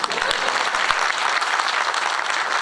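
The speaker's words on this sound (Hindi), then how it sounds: "दे दो ताली भाई" An audience at a pre-budget discussion in Bhopal breaks into loud, dense applause, a brief burst of close clapping with no speech over it.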